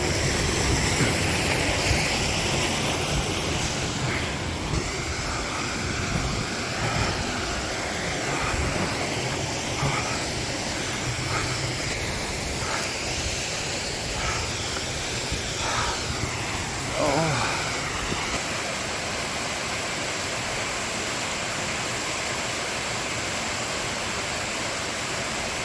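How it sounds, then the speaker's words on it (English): Middle Black Clough Waterfall in the Peak District roars steadily in a loud, broadband rush of falling water that stays constant and close throughout. "I could show you the majestic Middle Black Clough Waterfall"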